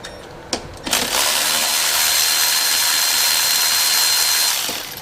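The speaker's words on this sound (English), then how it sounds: "Got our 8mm. Gonna unbolt the intake." A power tool with an 8mm socket whirs loudly and steadily at close range, unbolting the intake manifold on an LS truck engine, after a couple of short clicks, then winds down.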